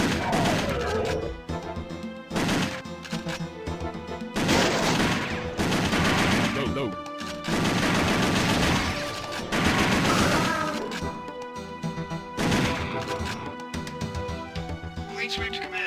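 Repeated gunfire bursts from the PS1 light gun game Area 51, loud and dense, mixed with game music and effects in steady bursts across the clip.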